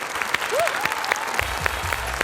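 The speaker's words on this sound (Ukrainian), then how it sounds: "Оплески." Studio audience applause on a Ukrainian TV comedy game show, a brief burst of clapping with a short vocal sound near the start.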